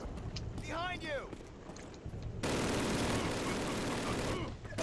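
Gunfire rattles in Call of Duty, a dense sustained burst of shots roaring up midway after quieter battlefield noise, loud and close, with a voice heard among the game sounds.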